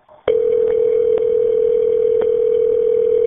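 A phone line rings out as a call to 911 goes through, starting abruptly as a loud steady electronic tone that holds unbroken with faint periodic clicks, close and alone without talk.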